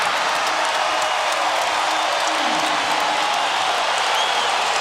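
Roaring arena crowd of Utah Jazz fans at an NBA playoff game, a dense, constant wall of cheering and noise with no break, loud and close throughout.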